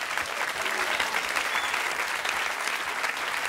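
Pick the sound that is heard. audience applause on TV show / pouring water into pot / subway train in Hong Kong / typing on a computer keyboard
audience applause on TV show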